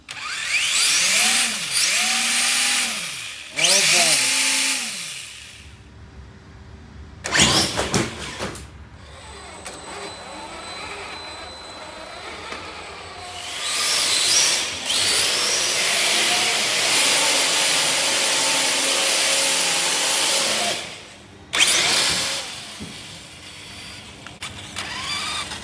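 The brushless motor of a Traxxas TRX-4 RC truck built on 6S power whines loudly at half throttle, rising and falling in repeated revving bursts with mechanical rattles and quiet gaps between runs.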